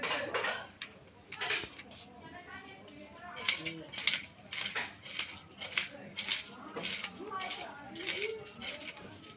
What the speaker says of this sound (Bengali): একদিকে আঁশ ছাড়িয়ে নিয়েছি আর একদিকে আঁশ ছাড়িয়ে নেব